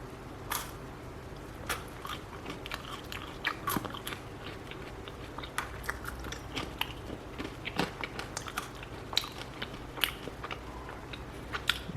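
Crisp, hot fries fresh from a Philips Essential Airfryer XL being bitten and chewed close up, a string of sharp crunchy snaps over a quiet background with no talking.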